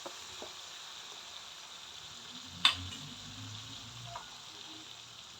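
Tamarind pulp and vangibath powder frying in a pan, a quiet, steady sizzle broken by one sharp clink of a utensil midway and a faint tap later, with no talking.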